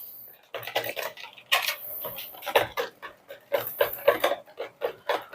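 Coconut flan batter with coconut milk being stirred again in a bowl, with repeated scraping and clinking strokes of a utensil against the bowl in an irregular rhythm, up close and fairly loud.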